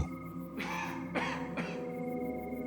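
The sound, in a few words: cough in a ghost audio story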